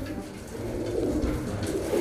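Domestic homing pigeons coo continuously in a low, throaty murmur from a loft, several birds overlapping at close range with no talk.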